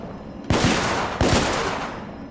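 Two sharp bursts of gunfire from the video game The Order: 1886, about 0.7 seconds apart, each with a long rumbling tail, loud and close, no talking.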